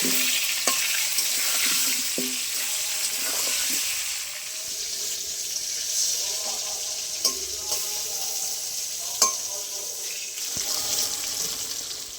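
Potatoes frying with salt and turmeric in hot oil, a steady close sizzle with scattered scrapes and taps of a spatula against the pan.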